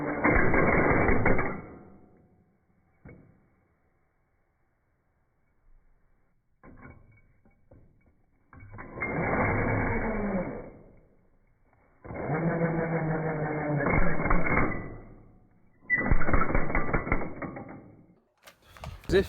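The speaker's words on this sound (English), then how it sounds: "you just screw that through a batten" A power driver runs long Torx screws through a batten into a loft joist during a loft conversion: several close whirring bursts of a few seconds each, separated by quiet gaps and small clicks.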